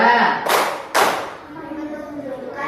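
Two sharp hand claps about half a second apart ring out close by, following a spoken lead-in, in a clapping signal used to mark prayer times; talk continues faintly afterward.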